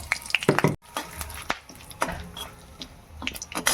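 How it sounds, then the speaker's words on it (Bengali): Whole garam masala, two dried red chillies and bay leaves fry in hot oil for a Bengali muri ghonto. The close crackling and sizzle comes with clattering stirring strokes and a brief pause. "ওই তেলের মধ্যেই আমি গোটা গরম মশলা, দুটো শুকনো লঙ্কা, তেজপাতা নিয়েছি,"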